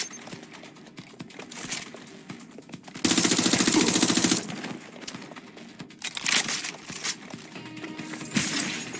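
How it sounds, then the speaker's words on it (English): Gunfire in the video game Watch Dogs: Legion: bursts of rapid automatic shots with sharp cracks, including a dense sustained volley in the middle, loud and close, alongside scattered clatter. "I'm getting shot at here."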